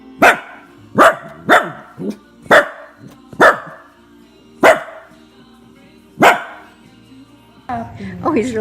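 A puppy barks playfully beside a baby, several loud, close barks and yips spaced irregularly, ending in a whimpering whine, with a voice and laughter heard faintly around them.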